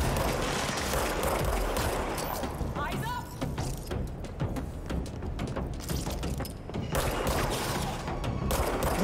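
Gunfire and combat noise in the Control video game, a loud and dense clatter of shots with rapid bursts and a brief lull partway through, under a voice.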